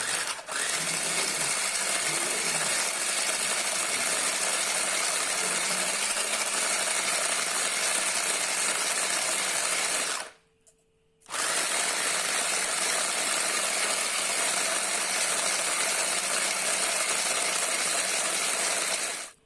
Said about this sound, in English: Add in lemon essence. Whisk again.